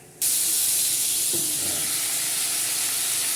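Pechay (bok choy) hits a hot pan with garlic and ginger, bursting into a loud, sudden sizzling hiss that stays steady and close, with a brief clank of a utensil partway through.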